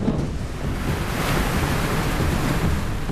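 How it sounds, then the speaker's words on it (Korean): On a shrimp fishing boat off Ulleungdo, rough sea waves roar and wash against the hull in a continuous loud broadband rush, with wind buffeting and no voices. "조심해. 이제 파도 막 넘어."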